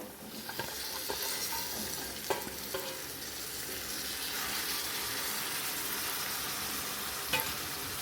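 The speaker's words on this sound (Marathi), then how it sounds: "गवर छान हलवून घ्यायची आहे बघा" Cluster beans stirred into spices in a hot pan give a steady sizzle and fry for the full eight seconds, with a few soft scraping knocks from a spoon and no talking.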